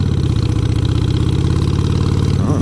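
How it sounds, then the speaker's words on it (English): Motorcycle engine running close and loud, a steady throbbing pulse that shifts slightly in pitch toward the end as gears change. "I got distracted and I did downshift. Motorcycling is hard."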